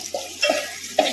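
A spatula scrapes and stirs soaked poha (flattened rice) in a hot pan, making three short, close scraping strokes with a faint sizzle underneath.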